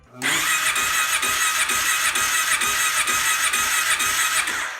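Kawasaki Brute Force ATV engine cranking over on the starter during a compression test, a loud rapid rhythmic churning that runs steadily for several seconds without firing.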